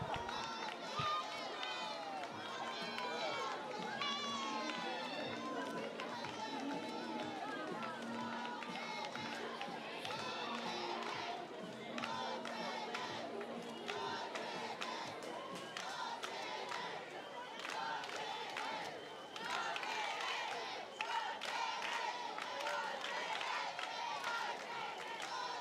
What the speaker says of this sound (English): the fans in the crowd are cheering on Jaden Pilgrim as he finishes up his 400 meters